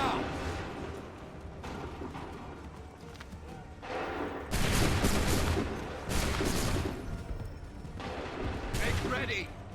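Musket volleys in an Assassin's Creed III battle, loud ragged bursts of massed fire arriving in separate waves, with shouted commands and battlefield clamor between volleys.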